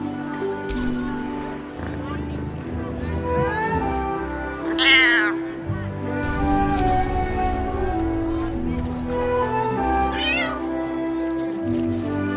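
Cat meows from Baldur's Gate 3 rise over layered game music, several distinct mewing calls, close and clear, with a longer drawn-out yowl partway through.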